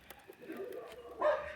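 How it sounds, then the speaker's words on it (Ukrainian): Dogs bark outdoors in a snowy rural yard beside a small greenhouse, with a loud burst of barking near the end over faint background voices. "собаки гавкають"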